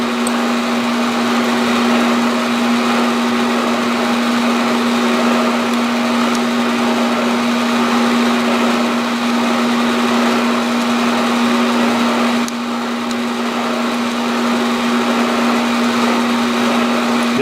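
Steady, loud machining drone from a machine tool cutting a stroked spline, fed side to side near a relief hole, with a strong constant hum running unbroken throughout and a slight change partway through.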